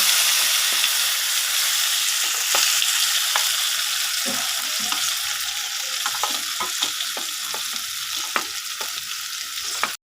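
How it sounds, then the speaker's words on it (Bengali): Green pea paste frying in oil with nigella seeds in a wok, a continuous loud sizzle with repeated spatula scrapes and stirs, close and without speech. "মটরশুঁটির পেস্টটাকে কড়াইয়ের মধ্যে এইভাবে নাড়াচাড়া করে আমি এটাকে জলটাকে একদম শুকিয়ে নেব"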